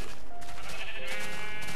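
A Minecraft sheep bleats close and loud, a single drawn-out wavering baa filling the whole short moment.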